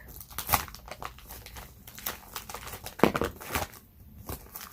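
Paper packing material crumpled and rustled while a package is unboxed, a steady close run of crinkling and crackling with irregular louder crunches, no speech.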